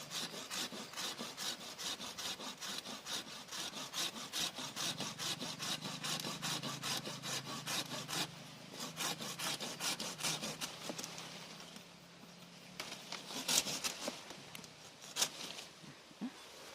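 Steady back-and-forth rasping of a hand saw cutting through a tree branch in a garden, continuous for a long stretch, then a few slower final strokes with cracking at the end.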